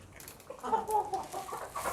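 A chicken clucks softly in a hen coop at night, a few low, murmuring calls close by over a quiet background.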